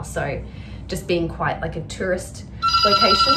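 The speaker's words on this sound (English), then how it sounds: "That's the phone." A phone rings with a steady electronic trill in the final second, breaking in after someone talking about a hotel outside Amritsar, India, close and loud.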